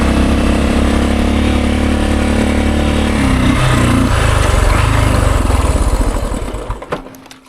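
A 50-year-old Honda enduro motorcycle engine with a fuel or electrical fault runs loud and close, a rough steady drone that sputters and dies away near the end.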